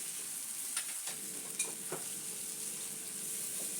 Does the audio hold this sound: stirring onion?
yes